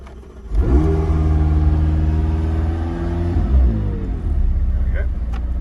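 A 2019 McLaren 600LT engine turns over via push-button start and fires up, revving briefly before settling into a steady idle, loud and close, with a voice speaking over it.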